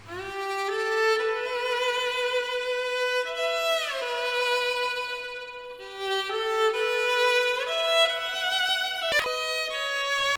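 Melodic music sample chosen for an anime-style boom bap beat, sustained bright tones with gliding pitch bends and shifting chords, played cleanly and fairly loud with no voices.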